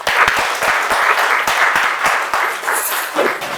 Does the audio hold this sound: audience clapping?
yes